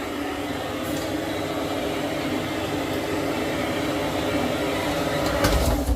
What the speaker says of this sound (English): hotel hairdryer.